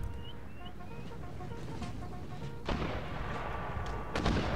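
Cannon fire in the battle game Empire: Total War, with a heavy boom and a second blast near the end over a continuous rumbling battlefield backdrop and faint musical tones.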